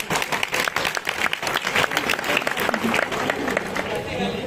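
A crowd applauds and claps for a student at a classroom event, steady dense clapping filling the room for several seconds without pause.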